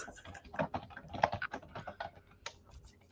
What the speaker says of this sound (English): you could probably hear me typing.